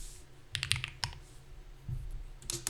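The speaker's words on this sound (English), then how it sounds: "I got some new switches for my keyboard" Bursts of clacky keystrokes from a keyboard fitted with new mechanical switches, typed in short irregular clusters close to the mic over a low background hum, with pauses between flurries.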